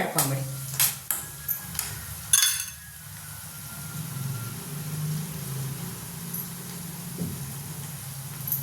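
Spiced puffed rice mixture for girimitta, seasoned with sambar powder, being stirred by hand in a pan, with a few scraping clicks early on over a low continuous sizzle that carries on steadily to the end.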